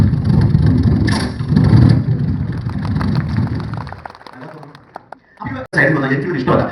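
A voice imitates a Royal Enfield motorbike engine, a continuous rumbling vroom that revs and drops away, then briefly resumes after a short break.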